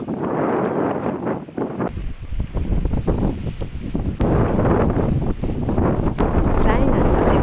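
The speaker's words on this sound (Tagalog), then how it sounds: "Ang hangin naman dito." Strong gusty wind buffets the microphone at seaside ruins, roaring in uneven bursts over surf, and a voice talks briefly through it.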